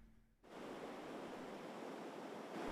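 A huge mass of floodwater rushes through the sluice gate at Ban Hat Saphan Chan on the Yom River in Sukhothai, a steady, loud, broadband roar after a brief quieter moment, with no voices.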